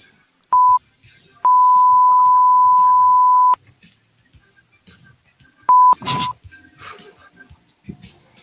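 Electronic beeps at a steady pitch: a short tone, then a long held tone of about two seconds, and after a pause another brief pair. Each is loud and clean against a quiet background, with scattered faint noises and a burst of rustle near the end.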